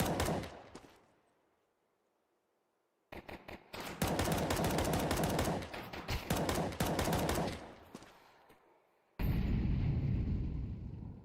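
Glock pistols fire in a Counter-Strike match, with rapid bursts of sharp gunshots that are sometimes dense and overlapping and sometimes spaced apart. The shooting is interrupted by a quiet stretch and ends in a loud, sustained burst.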